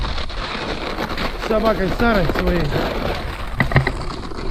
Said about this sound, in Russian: Но вот ветер очень сильный.